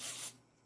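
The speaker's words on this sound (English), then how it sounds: "spray it." A short pump-spray of gun cleaner onto folded cotton swabs threaded for cleaning a Savage Axis bolt-action rifle bolt; one brief hissing burst, close and fairly soft, then quiet.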